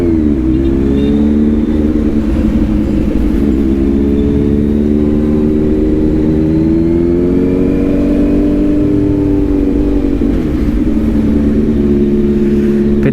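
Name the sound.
Kawasaki Z900 motorcycle engine revving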